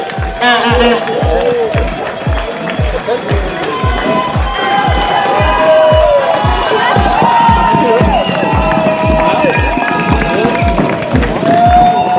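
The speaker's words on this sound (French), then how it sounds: "c'est des applaudissements" Spectators at the UTMB 2019 ultra-trail race cheer and applaud loudly while a rhythmic thumping beat pounds underneath, with voices shouting over the noise.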